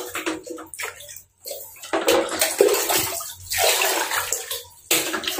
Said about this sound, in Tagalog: ito po yung gagamitin natin tubig sa pagpapaligo sa puppy natin